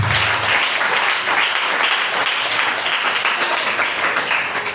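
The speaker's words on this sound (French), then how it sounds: "Est-ce qu'on peut acclamer Jésus?" A church congregation applauds Jesus with loud, dense, sustained clapping that fills the room evenly from start to finish.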